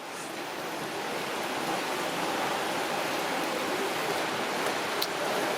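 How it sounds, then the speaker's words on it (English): Heavy rain falling steadily outdoors, a dense continuous hiss that builds slightly at the start and then holds evenly, with no voices. "it looks like now the tables have turned and it's raining again. This is much heavier than what it was for me."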